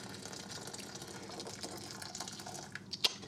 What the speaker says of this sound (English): add lots of hot water from your freshly boiled kettle